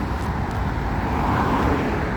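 A car passes on a busy stretch of road, its steady roar and tyre noise swelling slightly and filling the foreground with broadband traffic rumble.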